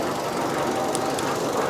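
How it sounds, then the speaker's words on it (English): A Fiat 500 engine idles quietly under the open bonnet, giving a steady, even mechanical hum with a faint rapid ticking and a couple of brief high squeaks. "Nice quiet engine actually,"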